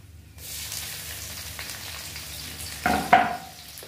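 Chopped onion fries with curry leaves in a hot pan, a steady close sizzle with a brief clatter of stirring near the end, no talking.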